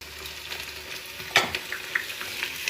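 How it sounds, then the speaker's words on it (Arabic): Chopped onion sautés in olive oil for maftoul, a soft steady sizzle with a sharp stir or scrape of the utensil midway and a few lighter clinks after. "يتشوح بزيت الزيتون"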